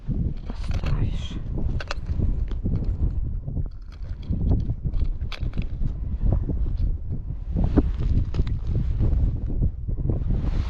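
Strong wind gusts blow across open ice during a snowstorm at an ice-fishing spot, a steady loud rushing and buffeting against the microphone, with a person talking intermittently over it.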